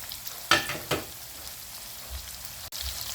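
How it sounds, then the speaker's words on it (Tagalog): Garlic and onion sauté in hot oil in a pan, giving a steady close sizzle with a few sharper stirring scrapes. "Iba-iba ang proseso natin sa paggisa ng bawang at saka sibuyas"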